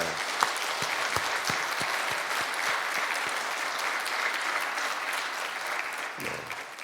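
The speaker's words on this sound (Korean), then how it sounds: "우리 장로님들 박수 한번 낼까요?" A church congregation applauds its elders, a steady wash of many hands clapping that carries on for several seconds before thinning out at the end.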